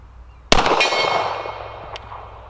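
A single sharp, loud shot from a Rock Island Ultra 10mm double-stack pistol at an outdoor range, with a ringing metallic tail and a faint distant echo and clink afterward.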